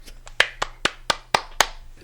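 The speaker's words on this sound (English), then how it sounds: "You've taken to clapping a lot in this show." Hand clapping in a podcast studio celebration: six or seven sharp, evenly spaced claps, close and fairly loud, with no talking over them.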